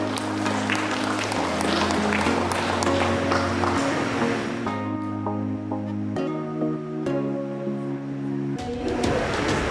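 Audience clapping at a formal ceremony for a Perhutani and BPJS agreement signing, a steady patter of hands heard over loud sustained music tones that continue throughout.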